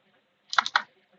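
A few quick keystrokes tap on a computer keyboard while a command is entered in an operating-system lesson, three or four close, crisp clicks in a brief burst surrounded by quiet.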